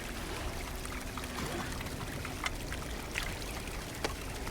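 Water being collected from a stream in the survival climbing game Cairn, a steady broadband trickle and pour with a few small splashy clicks, continuous and close, with no voices.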